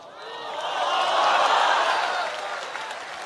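An audience at an Islamic religious lecture applauds in a short burst that swells to a peak and fades away, a soft, close, noisy patter lasting a few seconds.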